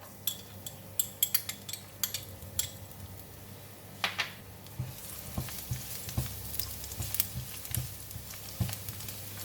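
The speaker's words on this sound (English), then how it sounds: "Oil is hot, I'm putting in the garlic" Garlic dropped into a hot pan of cooking oil for a ginger and black bean chicken stir fry, sizzling steadily up close with light utensil clinks and scraping, after a few sharp clatters at the start.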